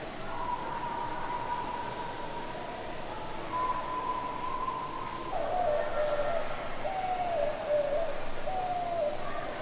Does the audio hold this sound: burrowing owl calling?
yes